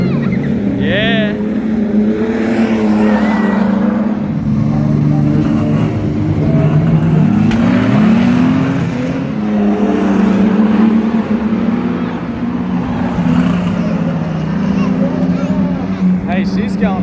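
A Ford AU Falcon racing on a track and nearly spinning out: a steady engine drone rising and falling as it revs, heard from a distance under excited talk from onlookers.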